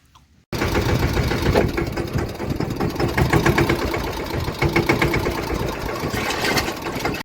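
A Yuvraj tractor engine runs steadily at close range on a farm, a continuous rumbling drone with a rough, ticking texture that starts abruptly after a brief quiet moment and holds for several seconds without talk.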